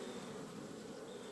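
Honey bees buzz at an open apiary hive in Ireland in spring, a steady dense drone of many wings, close and continuous, with no voices.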